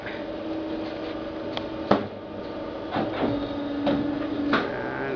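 A Polar paper cutting machine runs with a low steady hum, punctuated by several sharp mechanical clunks and thuds as it operates, moderately quiet and close.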